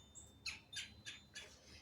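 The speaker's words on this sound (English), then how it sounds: "Hear the bird singing." A bird sings outside, several short bright chirps repeating in an even rhythm, faint and somewhat distant, heard alone.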